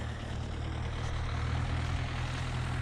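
An MTZ 952 tractor with a ChN1500 deep subsoiler runs in a field after soybeans, its engine a steady low rumble with a constant hum, distant and fairly faint, without talk.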